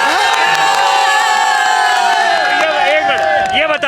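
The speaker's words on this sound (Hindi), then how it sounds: "इनके लिए ताली बजा दो यार सब लोग" A crowd at a street gathering cheers and shouts loudly, a dense continuous roar of voices with whoops and yells sustained throughout.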